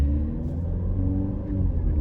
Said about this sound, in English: That mild hybrid really pulls you out, and then when the turbo kicks in, you get a lot of that boost.